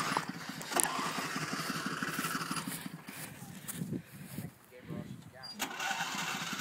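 A lawn mower engine cranks and sputters into a rough running rumble outdoors, its level rising and falling as it catches. People talk close by over it throughout.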